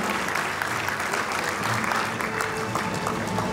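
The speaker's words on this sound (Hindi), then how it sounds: "जोरदार तालियां सभी विभागों से या विभागों की तालियां देते हुए धीमी नहीं पड़नी चाहिए।" Dense, loud applause from a large audience fills a school felicitation ceremony at Lucknow Public School, steady and unbroken throughout with no pause or fade.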